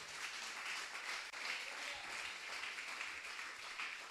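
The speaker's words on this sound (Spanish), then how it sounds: "dele un fuerte aplauso al Señor en esta hora" A church congregation claps together in a steady, dense wash of applause that fills the room at moderate loudness, with a faint voice briefly audible underneath.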